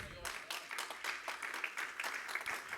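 A church congregation claps hands in a quick, steady rhythm of many overlapping claps, moderately distant and fairly faint, with voices mixed in.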